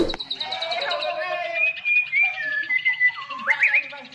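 A Nias white-rumped shama (murai Nias) sings clear, loud whistled phrases, a close run of bright rising and falling notes with short pauses between them.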